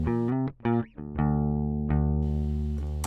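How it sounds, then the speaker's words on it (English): Clean DI electric bass guitar, unprocessed, playing a few short plucked notes and then sustained low notes, up close and alone. "we've also got a completely clean DI as well, which sounds like this"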